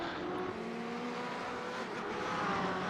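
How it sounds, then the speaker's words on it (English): BMW race cars lap the Motegi circuit in a sim racing game, a steady high engine drone with faint tire noise, continuous and moderately loud, with no voices. "A lot of BMWs out here on the racetrack tonight"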